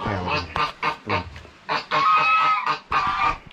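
A goose on a farm gives a series of loud, nasal honks in short bursts, interleaved with nearby talking.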